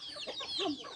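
Farm chickens cluck in a brief, faint run of soft, overlapping calls, close by and with no talk over them.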